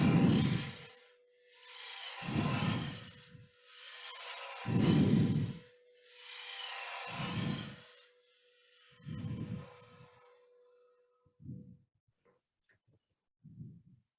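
A wood lathe at 1400 RPM turning a wig stand, the tool rasping against the spinning wood in repeated strokes of roughly two seconds each over a steady hum, close and clear, the strokes growing shorter and sparser toward the end.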